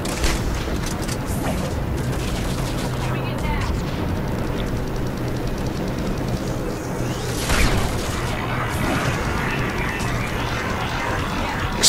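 Explosions and weapon fire rumble through combat in the video game Mass Effect 3, a dense continuous barrage of booms with one sharper blast partway through, while a player talks over the action.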